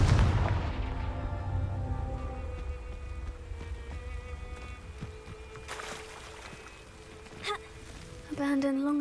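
Confringo blasting spell fired in Hogwarts Legacy: a loud booming burst at the start that fades into a rumbling tail, with a lighter crackle and a brief thud later, under low game ambience.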